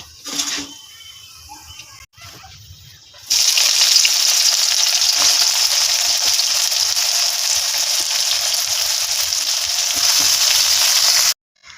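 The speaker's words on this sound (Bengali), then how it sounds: "তেল গরম হয়ে গেছে এলাচগুলো আগে ফোড়ন দেবো এলাচ দারচিনি আর লবঙ্গ" Cardamom, cinnamon and cloves dropped into hot oil burst into a loud, steady sizzle that holds for several seconds after a brief quieter start, then cuts off abruptly.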